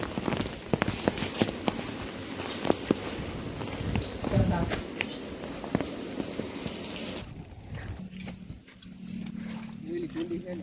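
Rain patters on surfaces with scattered heavier drops, continuous throughout, while a voice talks over it for much of the stretch.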